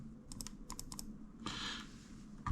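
Small plastic buttons on a Powkiddy X55 handheld game console, including the volume up and down keys, clicked in a quick irregular series of light taps, then a short scraping rustle, quiet and close.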